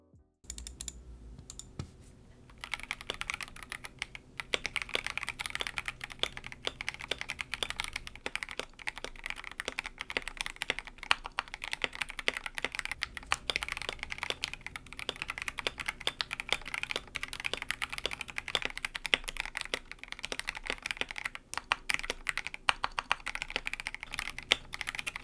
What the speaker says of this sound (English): let's listen to the unlubed versus lubed typing test.